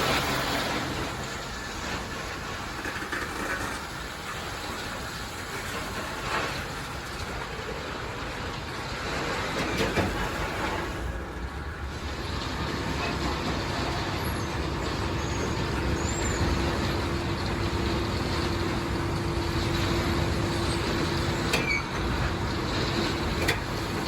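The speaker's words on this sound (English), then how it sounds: "I'll let you enjoy a few minutes of loading the coal train here" HO scale model coal train being loaded with coal at a working flood loader, a steady rushing, rumbling wash of sound running throughout at a constant level with no talk.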